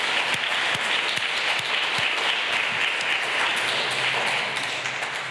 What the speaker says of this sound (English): So big clap for them.